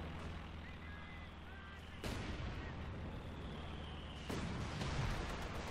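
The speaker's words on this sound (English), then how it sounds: "Got another Stukasafus barrage coming in." Heavy Stuka artillery barrage in Company of Heroes 2, with deep booming impacts landing in two big surges over steady battlefield rumble while a commentator talks.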